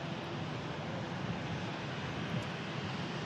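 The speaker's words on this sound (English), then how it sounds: "We have the Emerald Air ATR 72." An Emerald Air ATR 72 turboprop moves around the airport, a faint, steady broadband roar and hum heard from a distance, with wind noise mixed in.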